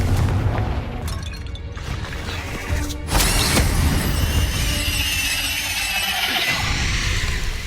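Spell effects in the Hogwarts Legacy video game, ending in a Confringo blast: a loud, dense run of booming bursts and crackling impacts, with a sharp explosive hit about midway that keeps ringing to the end.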